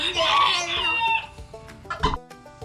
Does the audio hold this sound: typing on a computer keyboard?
no